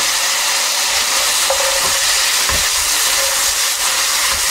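Onion and beef frying in a pot for boeuf bourguignon, a steady close sizzle with broadband hiss and a few faint clinks or stirring touches throughout, no voices.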